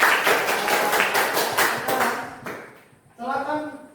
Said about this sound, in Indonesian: kita berikan tepuk tangan di semua dulu